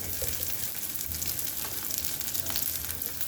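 Onions frying in oil with cinnamon and bay leaf for a fish curry: a steady, soft sizzle and crackle throughout, fairly quiet, with no talking.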